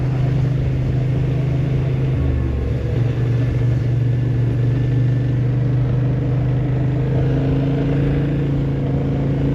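A Kymco AK Premium 2024 scooter cruising on the road, its engine giving a steady, close mid-pitched drone with a dip in tone near the start, over continuous wind and road rumble, no talking.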